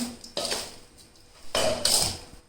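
A spoon scrapes and clinks against a bowl while mixing spices for a ginger pickle, two separate bursts of close metallic scraping with a brief quiet gap between them.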